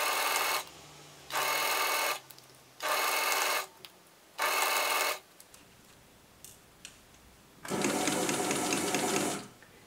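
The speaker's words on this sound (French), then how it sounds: "Et je peux piquer, faire un petit point d'arrêt et commencer la couture." A sewing machine stitches a zipper into fabric, running in four short even bursts with brief pauses, then one longer steady run, loud and close with no talk.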